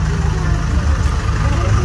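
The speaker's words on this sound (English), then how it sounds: "When the tractor is running, even if it's stopped, do not stand up." A tractor engine idles steadily on a pumpkin patch farm, a loud, close, continuous low rumble with no breaks.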